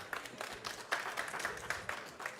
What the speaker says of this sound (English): Can I ask the audience to give them a wonderful and great applause